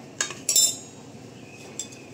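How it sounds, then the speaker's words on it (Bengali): A spoon clinks against a bowl while chana chaat with chopped ginger, chilli, pickle and mustard oil is mixed, a couple of sharp metallic taps near the start and another later over a soft background. "এবার আমি এটাকে ভালো করে মেখে নিচ্ছি।"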